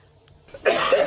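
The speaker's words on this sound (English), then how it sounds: "He's making me cough." A man's single close, harsh cough bursts out after a brief moment of near silence, loud and raspy, followed by a short second push of breath.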